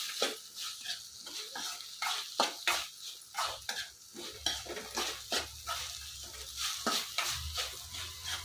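Soya chunks fry in a pan with a faint sizzle under repeated rhythmic scrapes and clatters of a spatula against the metal, close up, over a low background hum, with no talking.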